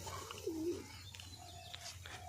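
Giribaz and Madras breed pigeons give a soft, low cooing call, faint and brief, over a steady low background hum.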